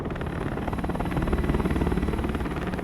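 A military helicopter in a Modern Warfare campaign mission, its rotor thumping in a steady rapid chop over a dense engine rumble, loud and constant throughout with no voices.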